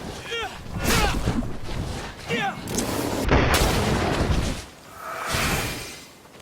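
A loud volley of musket-style gunfire and booms during a battle in Greedfall, overlapping blasts and rumbling reports swelling and fading, with shouted voices at the start.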